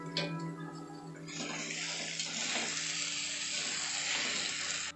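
Ground spices with turmeric and red chilli powder fry in a hot pan for curry, a steady loud sizzle with bubbling that starts sharply after a brief quieter moment and holds evenly to the end.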